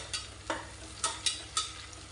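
Onions and a bay leaf fry softly in oil while a spoon stirs them, the quiet sizzle broken by five sharp scraping strokes at irregular intervals.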